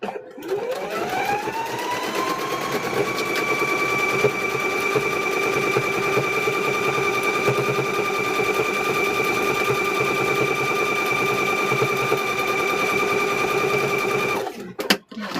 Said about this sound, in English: We're going to stitch right across the bottom of it.